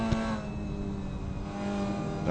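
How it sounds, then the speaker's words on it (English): A damaged Mazda MX-5 race car engine, running after contact during a Lime Rock Park race, gives a steady, rough, droning tone that holds throughout and swells slightly at the end. "the engine doesn't sound good either"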